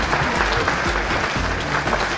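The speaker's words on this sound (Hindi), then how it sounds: "कृपया तालियां हो जाएं।" Guests applaud at a lively party in Prayagraj, steady clapping with a few voices and cheers mixed in, close and fairly loud throughout.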